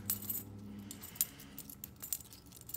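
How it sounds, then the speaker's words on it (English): Small metal keys jangle and clink as they are looped onto a key ring, with several sharp bright chinks over a low room hum, close and fairly quiet. "I'm just gonna loop these up on a key ring so they don't get lost in the shuffle."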